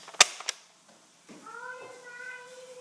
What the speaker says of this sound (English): Usually I shoot it like this.